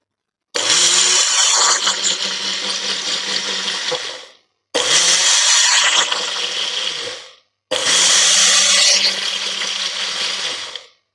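Blender grinding almonds with a little milk for an almond milkshake, three loud bursts of whirring motor and rattling blades, each a few seconds long with short pauses between, close and without talk.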